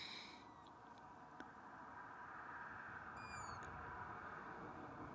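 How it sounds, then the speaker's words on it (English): An owl calls at twilight on the Yorkshire Moors, a few faint, distant hoots over a low outdoor hiss, with a brief spoken word partway through. "Owl."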